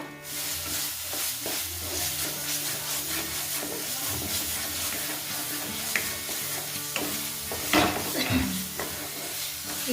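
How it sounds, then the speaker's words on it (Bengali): Spice masala for chana gravy stirs and fries in hot oil, a steady close sizzle and hiss with repeated scraping strokes of the spoon against the pan, continuing without pause and with no one speaking. "এবার যতক্ষণ মশলাটা তেল না বেরিয়ে আসছে ততক্ষণ ধরে এটা নেড়ে নেড়ে ভেজে যেতে হবে"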